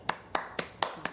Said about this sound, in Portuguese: Receba todos os aplausos,